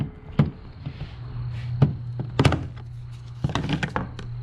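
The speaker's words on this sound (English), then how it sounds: "get a pry tool and just kind of pry it up" A pry tool works a plastic trim piece loose on a 2007-2011 Honda CR-V during front strut replacement, giving a close series of sharp clicks, taps and dull thunks over a low steady hum.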